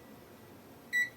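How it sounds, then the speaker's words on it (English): A multimeter continuity tester gives one brief, thin beep while probing Nintendo Switch circuit board components, after a stretch of quiet hiss. "I still get an ever so slight beep when I touch"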